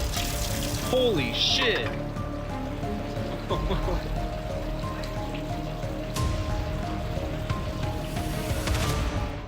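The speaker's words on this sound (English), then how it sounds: "As he opens the car nuts under the car, water gushes out like a tap." Water gushes and pours steadily out from under a car in a flooded workshop, a continuous rushing splash heard close up beneath a man's startled exclamation and some talk.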